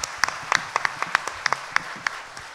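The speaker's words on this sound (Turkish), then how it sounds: "O hocana da bir alkış alalım o zaman." Audience at a municipal music awards TV show applauds a teacher with scattered, fairly sparse claps, and individual sharp hand claps stand out as separate pops over a moderate room background.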